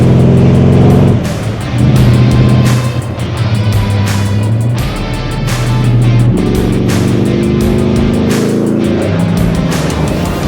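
A deep, powerful American V8 engine in an AC Cobra rumbles and revs in waves, loud and close, with throaty pulses as the car drives and accelerates on an open road.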